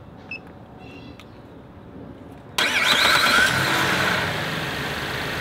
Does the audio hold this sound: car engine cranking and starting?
yes